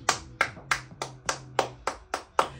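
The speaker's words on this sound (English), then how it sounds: "let's clap for the consistency" Hands clap nine times at an even, brisk rhythm, each clap sharp and distinct, close by with no talking.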